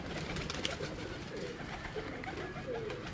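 Pigeons at a breeder's loft coo softly and intermittently beneath a steady, noisy outdoor background.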